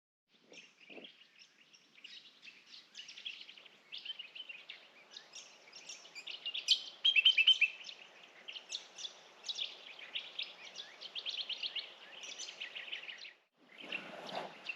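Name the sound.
birds chirping in the morning on Larapinta trail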